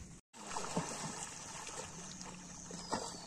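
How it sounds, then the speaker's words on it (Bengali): Water sloshing and trickling around a swimmer near the shore of Kaptai Lake at dusk, a steady low wash with a few soft splashes, heard up close. "এখন সন্ধ্যা হয়ে যাচ্ছে আর আমি কাপ্তাই লেকে সাঁতার কাটছি।"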